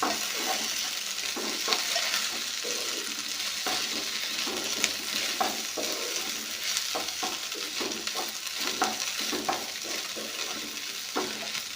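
Okra is stirred in a hot frying pan after turmeric goes in, steady sizzling with repeated scraping strokes of a spoon through the vegetables, close and continuous with no talking.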